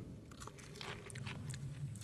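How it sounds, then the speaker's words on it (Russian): Someone bites off the top of a vegetable, a few close, crisp crunching bites followed by quieter chewing, loud and dry against a faint background hum. "Затем слегка откусить"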